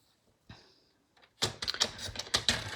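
Card stock being trimmed on a paper trimmer for handmade card making: a quiet initial slide and light taps, then a burst of crisp, clicky cutting and scraping strokes in quick irregular succession, close and fairly loud.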